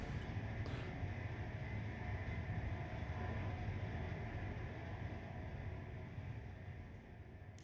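Train braking to a stop in the railway simulator Train Life: a steady, dense rumble of rolling wheels and rail noise that gradually eases off in loudness, with no talking.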